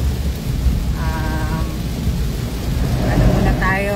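Heavy rain pours steadily with a low thunder rumble underneath, a continuous loud wash with faint passing-car noise.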